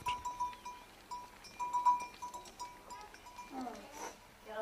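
Sheep with their herders on a Himalayan trail, with faint intermittent bleats, soft bell-like tinkles and a distant voice or whistle in the open air, quiet and scattered.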